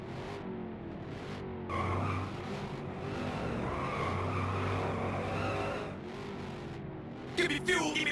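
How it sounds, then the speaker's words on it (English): Race cars idle and rev at Owosso Speedway, a steady field of engines with rising and falling revs, thin tonal whine and some squealing, plus a brief clatter near the end. "Alright, drivers, start your engines."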